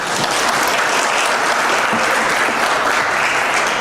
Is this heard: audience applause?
yes